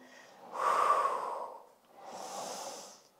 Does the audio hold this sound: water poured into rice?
no